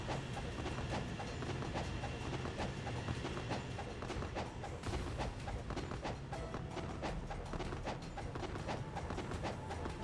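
Train interior ambience in Ninja Gaiden Sigma 2, a steady low rumble with a regular clickety-clack of wheels over rail joints, continuous and fairly faint throughout, with no speech.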